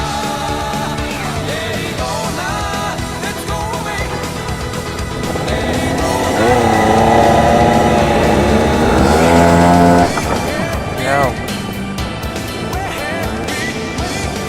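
A DMAX racing kart engine revs and drones steadily as it pulls out of the pit lane, its pitch rising and falling with shifts, loud and close, with other engines around it.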